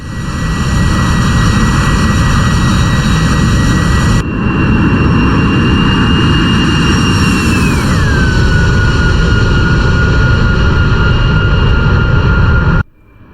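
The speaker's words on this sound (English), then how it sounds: "Gear coming up. This is it. We are airborne." AV-8B Harrier jet engine roaring steadily through takeoff in the DCS World flight simulator, a loud continuous turbine whine whose high tone sweeps downward midway, cutting off abruptly near the end.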